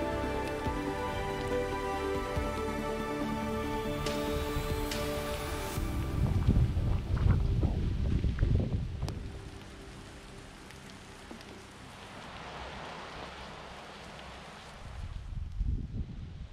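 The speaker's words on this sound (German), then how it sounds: "Wind und Regen. Kommt uns ungelegen." Wind and rain outdoors on the Welterbesteig Wachau hiking trail between Aggsbach Markt and Emmersdorf, Lower Austria, a steady hiss of falling drops and gusts, with a tonal hum fading out early and louder rustling bursts midway and at the end, no talk.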